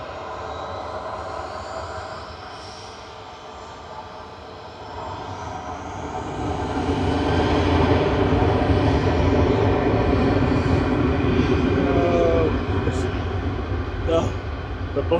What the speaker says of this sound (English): Here we go, the A380's here. Coming in with flight EK21 from Dubai. This is A6EOQ touching down.